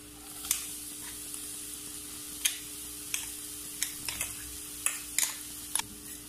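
Onions sizzle softly in a pan as a crushed coconut mix goes in for a Kerala-style ash gourd stir fry. A quiet, even hiss is punctuated by sharp, scattered ticks of the spoon against the pan.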